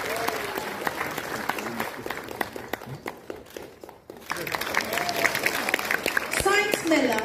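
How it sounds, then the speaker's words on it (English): Audience applause at a Youth Festival 2024 prize distribution ceremony in Kohima, a steady clapping wash running through the clip beneath an announcer's amplified voice, dipping briefly midway before swelling again. "Round of applause for Woka District."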